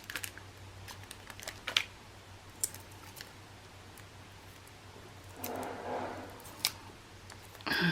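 Scissors cutting sticky tape, a few sharp close snips and clicks scattered through a quiet room, with a brief crinkly rustle of tape partway through.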